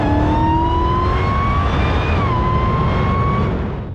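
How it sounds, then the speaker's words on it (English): A 2018 Dodge SRT Demon Challenger with an automatic transmission accelerates hard, its loud engine note climbing steadily, dropping at a quick upshift, then rising again, close and continuous with no talking. "the automatic transmission in this thing is just flies through the gears"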